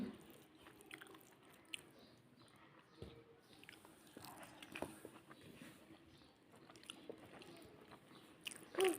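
Someone bites and chews fried beetroot bhaji close to the microphone, making soft, irregular crunching and moist chewing sounds at a low level, with no talking.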